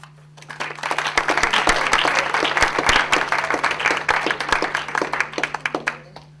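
An audience applauds a welcome for Bishop Richard Sklba at a lecture on Jewish-Catholic relations, a sustained burst of many hands clapping that swells and then thins to scattered claps, with a steady low hum underneath.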